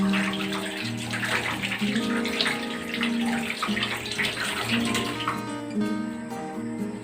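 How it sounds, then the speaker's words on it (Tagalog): Tap water runs steadily as hands are washed, a continuous close splashing stream with small shifts in the spray and no speech. "wash your hands"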